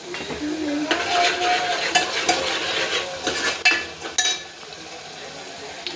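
Spoon stirring spiced mushroom curry in a frying pan, close and fairly loud, with steady sizzling under scraping and a few metal clinks.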